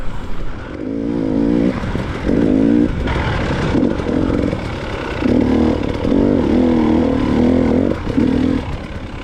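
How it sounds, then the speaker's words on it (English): A motorcycle engine runs close by with a labored, dragging hum from a dragging rear brake, rising and dipping unevenly, steady throughout with no talking. "you could probably hear the engine dragging a little bit there"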